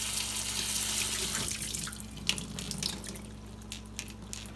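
Canned garbanzo beans rinsed under a running kitchen tap, a steady close hiss of flowing water into a sink with splashy drips and clatter as the beans are moved about.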